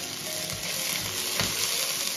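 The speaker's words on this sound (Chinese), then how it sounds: "油热了以后加入葱叶爆香一下" Scallion leaves frying in hot oil in a big iron wok, a steady, dense sizzle that stays loud and even throughout, with a brief stirring scrape partway through.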